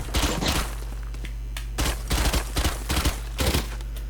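Gunfire from the video game Valorant, a sniper rifle in the mix, heard as several sharp bursts of shots with brief quiet gaps between them and nobody talking.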